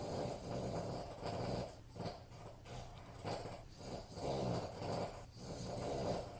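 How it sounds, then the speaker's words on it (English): A pet dog snores steadily in a quiet room, with rhythmic, rasping breaths that swell and fade every second or so and are heard alone at close range. "my dog snores."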